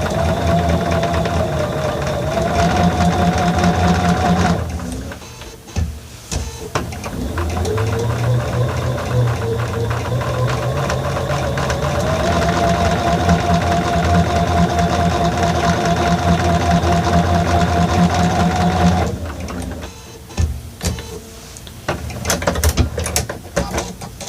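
A sewing machine stitches a quarter-inch seam with a loud, close, rapid mechanical whir. It runs in long bursts, pauses briefly twice while the fabric is turned, then resumes with a slightly shifting pitch.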